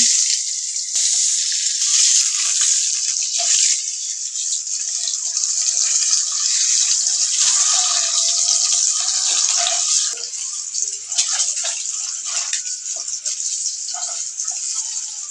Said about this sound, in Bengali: ডিমগুলো ভাজা হয়ে গেছে, এখন নামিয়ে নেব।